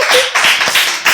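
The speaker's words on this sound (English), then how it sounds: "gentlemen, can you clap for the people" Brief burst of audience clapping at a talk, a few sharp, close claps in quick succession, loud and unaccompanied by speech.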